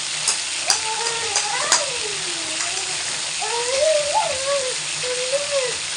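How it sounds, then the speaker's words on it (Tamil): Chicken sautés in a pan for green chicken, a steady close sizzle with scraping stirring strokes across the hot pan and no talking. "இதை போட்டு நம்ம லேசாக ஒரு 2 செகண்ட் மட்டும் வதக்கிட்டு"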